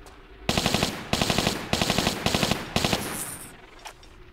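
Rapid automatic gunfire rings out in Tomb Raider 3, five close bursts of quick rattling shots fired at even intervals, then a few fainter clicks and a brief high tone as it fades.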